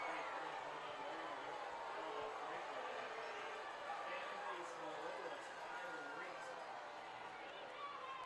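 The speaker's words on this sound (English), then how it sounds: "There's some booing in the crowd" A crowd at a high school football game between Whiteland and Franklin Community boos, a broad murmuring roar from distant stands that persists throughout while a commentator talks over it.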